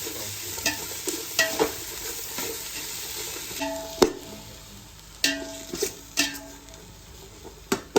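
Chicken fried rice with vegetables and egg is stir-fried in a home kitchen, giving a soft continuous sizzle broken by scattered sharp clanks and scrapes of a utensil on the pan, close and without talk.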